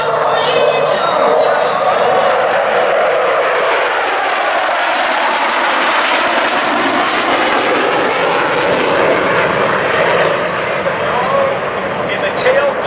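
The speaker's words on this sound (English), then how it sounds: "here they come, ladies and gentlemen, from Selfridge, Michigan, and the Selfridge Air National Guard, your United States Air National Guard F-15E Strike Eagles" Air National Guard F-15E Strike Eagle jets from Selfridge, Michigan, fly past at an air show, making a loud, continuous roar that swells and holds for the whole stretch.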